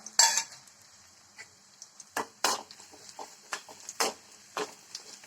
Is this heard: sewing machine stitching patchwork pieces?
no